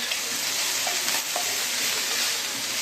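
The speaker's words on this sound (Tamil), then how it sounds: "ஒரு கொத்து கொத்தமல்லி, ஒரு கொத்து புதினா. இந்த சூட்லேயே வதங்கினா போதும்." Coriander and mint sizzle gently in a hot pan during a broccoli fry recipe, a steady close frying hiss with a few faint stirring scrapes.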